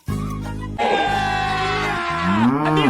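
A buffalo moos loudly at close range, one long sustained low call with a rising, wavering end, heard on its own with no talk over it.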